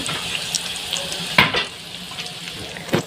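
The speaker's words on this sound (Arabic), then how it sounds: "هنقليهم لحد ما يحمروا" Kahk pastry fries in a pan of ghee, a steady bubbling sizzle with a few louder crackling bursts, close and fairly loud, with no talking.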